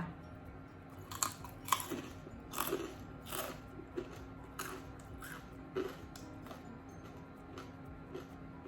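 Crispy pork rinds eaten with papaya salad: a series of sharp, close crunches and bites in an uneven rhythm over a faint, quiet background.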